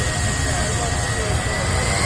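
Light STOL aircraft (Draco bush plane) at an airport STOL competition in Livermore, California, a steady broadband engine and propeller roar holding at moderate distance throughout, with faint voices mixed beneath it.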